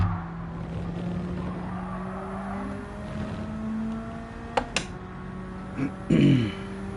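A race car in Gran Turismo 7 holds a steady engine drone through a practice lap, with a few sharp bumps and a short tyre squeal near the end, under occasional quiet talk.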